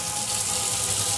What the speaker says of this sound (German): Da kriegt er nochmal eine Brause